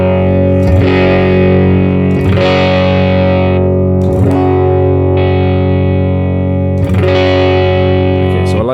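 Electric guitar with a twangy country tone through a Nano Cortex amp modeler, captured by a virtual 421 microphone, strumming sustained distorted chords in four loud, ringing phrases with no talking.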